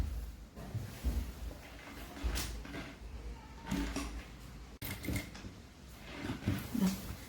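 Sewing machine stitching a silk skirt, a steady close mechanical whir with rhythmic needle chatter running the whole time, pausing briefly once.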